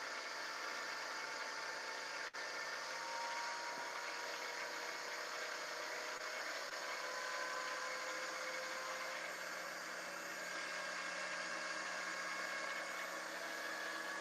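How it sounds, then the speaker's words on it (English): A wood lathe spins steadily at about 1200-1400 RPM, turning a cigar pencil for wet sanding, giving an even, continuous mechanical hum with a faint whine and no voices over it. "I'm going to crank it up to about somewhere between 12 and 1400 RPMs"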